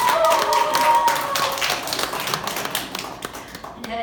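An audience applauds to welcome a speaker at a lecture, dense clapping that is strongest at first and thins toward the end, with some voices underneath.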